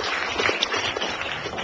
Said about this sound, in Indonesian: Tepuk tangan untuk Dalang yang luar biasa.